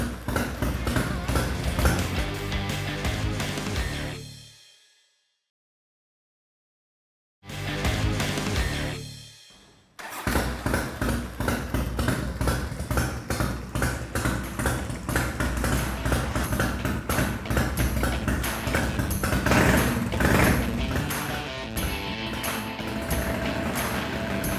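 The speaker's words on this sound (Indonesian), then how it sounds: "starter yang kayaknya nggak mampu untuk nyalain mesin yang camnya setinggi ini dan kompresinya setinggi ini" A high-compression, high-cam hotrod engine of modest displacement labours on its starter, giving loud rhythmic cranking chugs that cut out, resume briefly, then settle into a steady pulsing run.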